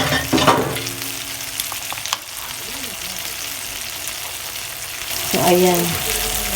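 Garlic and chilies frying in a pan for tofu pad kra pao give a steady crackling sizzle with a few scrapes of stirring, under brief talk at the start and end.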